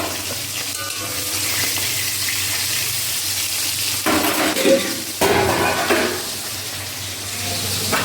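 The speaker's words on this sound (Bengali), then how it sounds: "মাছটা হলেই আমি কালো জিরে ফোড়ন দেবো" Black cumin seeds temper in hot oil in a home kitchen, giving a steady close sizzle with brief stirring scrapes and a short louder flare partway through.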